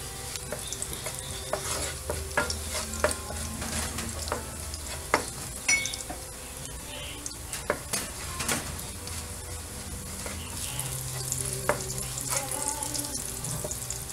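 Garlic fries in a pan for menudo, a steady soft sizzle with scraping stirs and clinks of a utensil, close and moderate in level.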